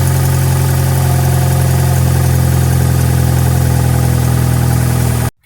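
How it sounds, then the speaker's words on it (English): Steady car engine idling after a spark plug change, a constant low hum with even vibration held alone for about five seconds before cutting off abruptly. "check your RPMs and your gauges, make sure your engine sounds right, make sure it sounds good"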